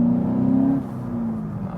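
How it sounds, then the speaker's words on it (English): A Seat Ibiza Cupra facelift with 192 hp pulling away after a downshift to second gear, a steady engine hum that rises in pitch and then eases, heard from inside the car without talk. "It's always nice to shift back to second gear and just to let you drop back again and then accelerate again."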